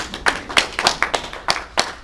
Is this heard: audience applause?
yes